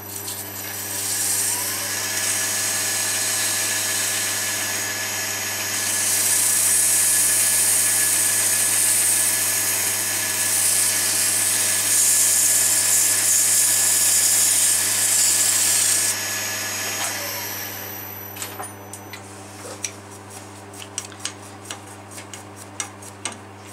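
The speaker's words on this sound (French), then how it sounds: "un petit coup de ponçage dessus déjà sur le tour" Boxwood rings are sanded while turning on a lathe: a steady motor hum with a brighter abrasive rubbing that swells in the middle, then fades into scattered light ticks and taps.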